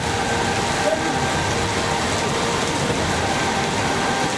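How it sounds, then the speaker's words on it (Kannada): Dense, steady rain hisses loudly and continuously in Shivamogga city during a thunderstorm, with a faint low engine hum underneath. "ಬೆಳಗ್ಗಿನಿಂದಲೇ ಶಿವಮೊಗ್ಗ ನಗರದಲ್ಲಿ ಗುಡುಗು ಸಿಡಿಲ ಸಹಿತ ಉತ್ತಮ ಮಳೆಯಾಗಿದೆ"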